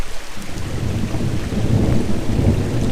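A thunderstorm with rain at a hammock campsite in the Red River Gorge: deep, rolling thunder rumbles continuously under a steady wash of rainfall, loud and close, with no voices.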